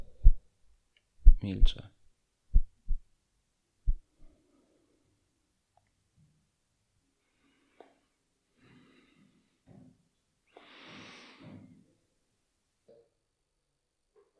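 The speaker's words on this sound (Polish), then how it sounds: "Serce bije mocno" Heartbeat sound effect in a Polish film-camp short drama, heart beating hard: a handful of heavy, loud low thumps in pairs across the first four seconds, then near silence as a voice speaks briefly.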